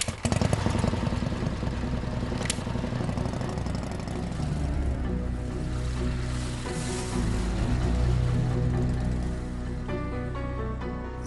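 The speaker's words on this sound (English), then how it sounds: "He was thrilled at driving his powerful bikes as hard as they would go." A powerful motorcycle engine drones steadily at high speed, loud and continuous under a thick layer of background score, with its pitch shifting slightly as the bike is pushed hard.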